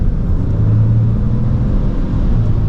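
A RAM 3500 Limited MegaCab pickup truck accelerates hard, its engine giving a loud, steady low rumble heard from inside the cab with no talking.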